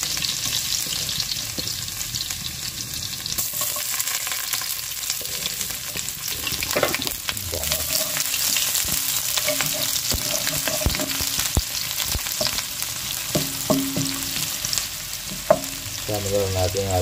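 Garlic and onion fry in hot oil and butter in a pan, a continuous loud close sizzle with crackles, occasional spoon scrapes and knocks, and a faint voice near the end.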